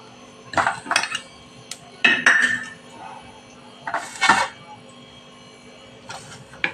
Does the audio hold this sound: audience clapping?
no